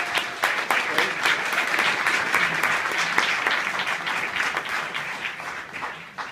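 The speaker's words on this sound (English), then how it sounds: "Everyone should round of applause for those students" Audience applause for graduating students at a Rutgers graduation ceremony, a dense, steady wash of many hands clapping that holds loud for several seconds before tapering slightly at the end.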